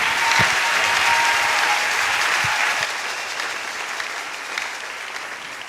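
A congregation applauds the Lord during a church service, steady full-room clapping that holds loud and then eases slightly toward the end, with no talk over it.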